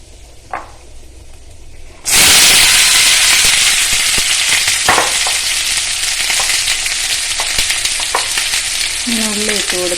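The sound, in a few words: onions sizzling as they fry in oil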